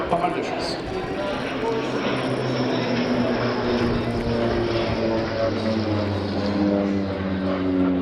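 Turboprop engines of an OV-10 Bronco and a Breguet Alizé droning steadily overhead at an air show in Biscarrosse, a continuous loud propeller hum with a voice talking over it throughout.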